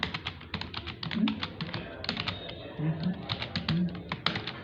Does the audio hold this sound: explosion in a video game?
no